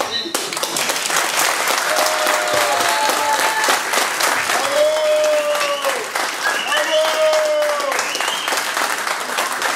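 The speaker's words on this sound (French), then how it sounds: "Est-ce que vous voulez qu'on vous applaudisse encore une fois?" Applause from a crowd at a local crafts and know-how fair in Lillebonne, steady and fairly loud clapping that runs throughout, with voices talking and calling over it.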